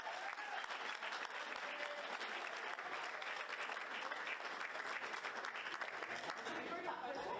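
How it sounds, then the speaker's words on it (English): An audience at a 2022 football awards night gives a big round of applause for the State League All-Star team: loud, continuous, evenly dense clapping from a large crowd, lasting throughout. "Having a big round of applause for our State League All-Star team."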